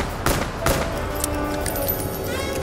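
Rapid gunfire in Black Ops 3 Zombies, Shadows of Evil, shooting the Shadow Man, with loud sharp bursts near the start over a continuous dense game soundscape.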